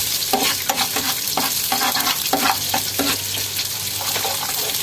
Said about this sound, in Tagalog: Siyempre, mag-brown mo muna yung bawang para masarap.